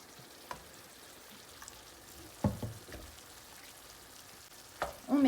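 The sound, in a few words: water poured into a pan to dilute tomato paste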